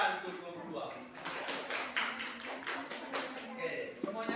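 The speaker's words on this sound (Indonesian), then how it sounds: "Oke, tepuk tangan untuk kelompok 2." Classroom of students clapping for group 2, a brief burst of scattered hand claps under a teacher's talk.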